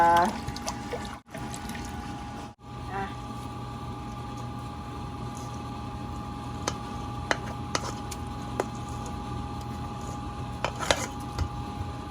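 Coconut milk is poured into a pan while Thai sticky-rice snacks are cooked at home: a quiet, soft, steady pour with faint clinks of kitchenware.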